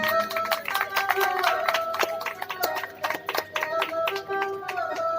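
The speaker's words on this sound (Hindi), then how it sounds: "तालियों से इनका स्वागत करें" Welcoming applause for a woman at a Hindu Bhagwat katha gathering, scattered hand claps mixed with steady tonal music or harmonium notes running underneath, moderately loud throughout.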